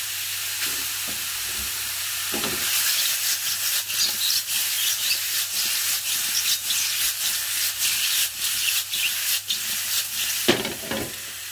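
Pieces of ling fish frying in hot oil while being stirred, a steady close sizzle with repeated scraping and rubbing strokes of a utensil in the pan, no voices.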